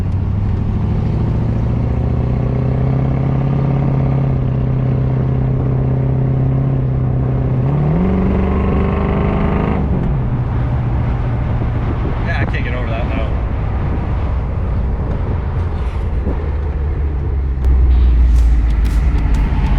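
A 1967 Ford Mustang convertible driving on the road, its engine droning steadily and then shifting pitch as it changes speed, with loud wind rumble and road noise heard from inside the car.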